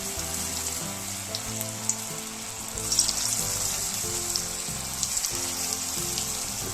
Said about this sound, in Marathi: अशा प्रकारे आपण मंचुरियनचे गोळे तेलात सोडून घेऊ